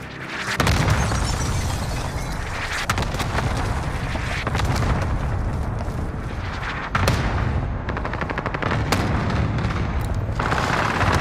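A cluster airstrike in a Fortnite-like battle royale game pounds down as a dense, loud barrage of overlapping booms and blasts, rolling on without pause for over ten seconds.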